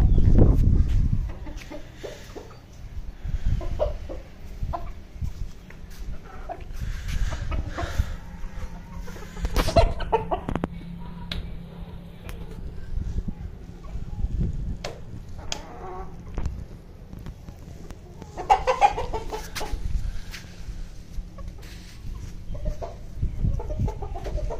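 Domestic hens and roosters cluck at close range through a long stretch, with scattered calls and a steady background hum and buzz of flies, and no talking.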